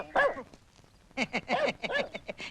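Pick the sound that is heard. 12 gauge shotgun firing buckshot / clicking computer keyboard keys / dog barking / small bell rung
dog barking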